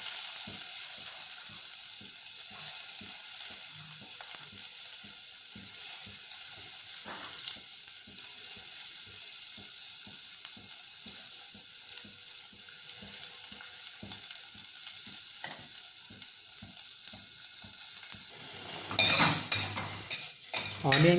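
Chopped onion sizzles steadily in hot oil in a pan for mutton masala, with a rhythmic scraping stir running throughout and a louder clatter near the end; no talking.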